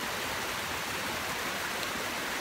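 A small brook on a hiking trail in Harriman State Park, New York, flows with a steady, even rush of water, close and continuous with no voices.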